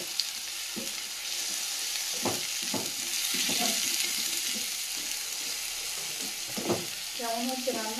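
Turmeric, chili powder, coriander and cumin fry together in hot oil with chopped tomato. The sizzle is steady and fairly loud, with occasional stirring scrapes and a brief voice near the end.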